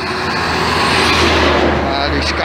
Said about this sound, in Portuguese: Os caminhões passam do seu lado.